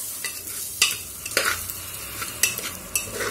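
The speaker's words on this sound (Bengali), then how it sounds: "চালটা দিয়ে দিয়েছি, ভালো করে মিশিয়ে একটু ভাজা ভাজা করে নেব।" Marinated rice is stirred and fried in a pressure cooker: a soft, continuous sizzle broken by several sharp scraping strokes of a spoon against the metal pot, close and fairly quiet.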